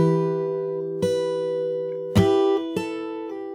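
A fingerstyle acoustic guitar picks out a song, clear plucked notes ringing with sustained harmonics, several spaced attacks letting each chord decay before the next, played close and alone.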